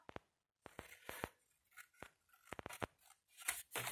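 Scissors cut paper close by in quick, irregular snips with short pauses between bursts, quiet and without speech.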